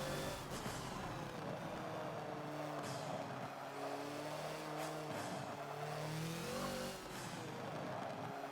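Tires of a Hoonigan Ford Focus in Forza on the Dubai track: a steady engine drone with shifting revs and continuous tire noise as the car slides through corners, no talk.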